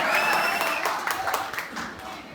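College audience clapping at a comedy poetry show, a scattered round of applause with individual claps audible, moderately loud and tapering off, with a voice briefly heard over it.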